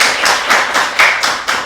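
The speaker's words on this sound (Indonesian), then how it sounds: "Boleh tepuk tangannya teman-teman." A few people clapping in rhythmic bursts at a talk-show style event, close and fairly loud, with distinct claps roughly every quarter second and no speech over them.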